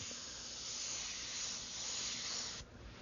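Airbrush spraying a thin coat of paint for flame areas, a soft, steady close hiss that holds evenly for a few seconds before cutting off near the end.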